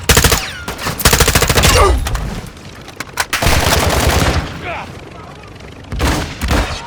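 Pistol gunfire in a video game, rapid clusters of sharp shots in bursts separated by brief lulls, loud and close, with game sounds and voices mixed in between.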